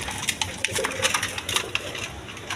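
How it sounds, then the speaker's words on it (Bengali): Pair of red Khormona pigeons cooing in a loft, soft low coos close by mixed with scattered light taps and scuffing sounds, no talk. "এখানে এক পেয়ার খরমোনা কবুতর আছে দেখেন খরমোনা রেড কালারের মধ্যে"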